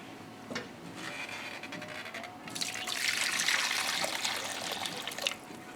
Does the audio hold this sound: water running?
yes